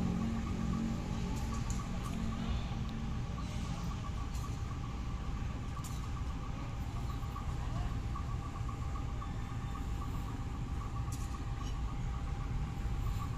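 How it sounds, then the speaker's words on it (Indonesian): A Cikuray full-economy passenger train arrives on track 1 at Cicalengka station, giving a steady, loud engine and rail rumble with a sustained mechanical hum that holds throughout. "ini di jalur 1 sepertinya ini masuk, entah ini kereta api Cikuray atau ke kereta api apa ini"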